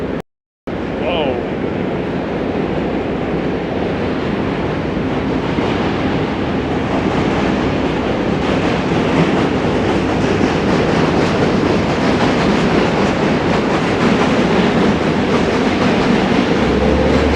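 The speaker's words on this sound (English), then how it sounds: "we hear the roar of the Q train right above" Loud, continuous roar of a New York City Q subway train crossing the Manhattan Bridge overhead at night, heard close from below with steady rumbling and faint rail clatter throughout, nearly unbroken after a brief silent gap at the start.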